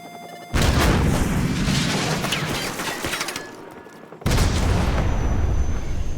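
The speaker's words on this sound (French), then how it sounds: "Soap, tire un autre Stinger" Stinger missile striking an enemy helicopter in Call of Duty: Modern Warfare Remastered, a loud booming explosion bursting in after a brief lull, rumbling and crackling, then a second heavy blast hitting near the end.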